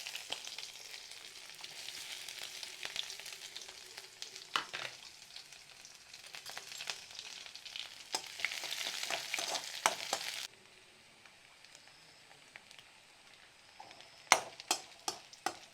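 Mustard seeds spluttering in hot oil with shallots and garlic, a dense crackling sizzle with stirring clicks that drops to a faint hiss before a few final scrapes.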